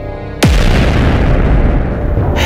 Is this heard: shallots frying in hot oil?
no